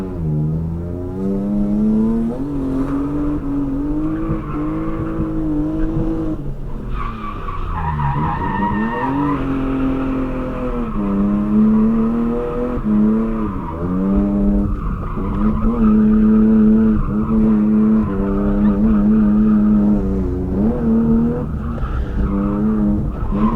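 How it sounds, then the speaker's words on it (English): BMW E36 drift car holding a loud, sustained engine howl with rising and falling revs and tire squeal, close and continuous throughout. "And it's a drift car."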